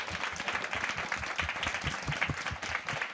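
Audience applause at the close of a CEO panel breakfast, a steady dense patter of many hands clapping, fairly faint and distant, filling the whole stretch with no talk over it.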